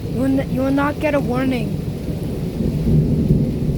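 Thunder rumbles through a severe thunderstorm with 60 mph winds and rain, a steady loud roar as a person talks over the opening seconds.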